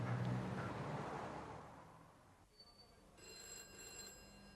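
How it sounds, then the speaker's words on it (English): A telephone rings in a quiet room in late-1980s Britain, a short run of bright repeated trills that comes in after a soft rumbling start, moderately loud and with no talk over it. "I let the phone ring for some time"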